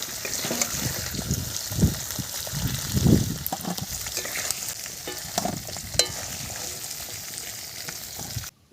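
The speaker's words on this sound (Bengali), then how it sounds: "কুচে মাছ ভাজা হয়ে গেছে।" Kuche eel fish frying in a pan: steady oil sizzle, with occasional stirring and scraping bursts, close and continuous for several seconds.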